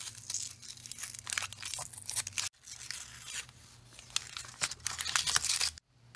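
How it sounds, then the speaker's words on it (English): Protective film is peeled off polycarbonate rover kit parts up close, producing crackling, tearing strips of sound in bursts, with a brief pause midway and a steady low hum underneath. "the first step is going to be to peel off some of this stuff from the polycarbonate."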